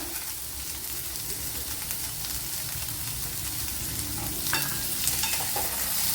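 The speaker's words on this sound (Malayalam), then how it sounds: "ഇനി ഒരു ചെറിയൊരു സവാള എടുത്തിട്ടുണ്ട്, അത് ഇട്ട് കൊടുക്കുക." Sliced onion fries in a pan for a Kerala-style ivy gourd dish, giving a steady, moderately loud sizzle with soft scraping as it is stirred, and no voices.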